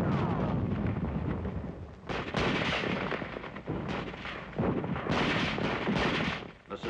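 Sustained gunfire and artillery in World War II combat from a 1945 newsreel, with dense rumbling bursts and booms rolling continuously, briefly dipping between volleys.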